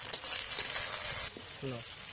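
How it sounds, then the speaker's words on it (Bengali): Onion and tomato frying in a pan, an even close sizzle with soft scraping stirs, and a brief voice heard near the end. "টমেটো দিয়ে একটু ভেজে নিতে হবে।"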